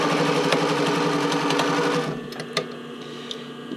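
Sewing machine stitching bra cups into the band, a fast steady mechanical whir with rapid needle ticks that slows and quiets midway, close-up.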